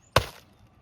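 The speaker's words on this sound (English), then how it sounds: "So we're gonna use the fireman's hatchet," A single sharp chop of a dull fireman's hatchet biting into a thick wall built from layers of duct tape, one loud close impact that decays quickly into quiet.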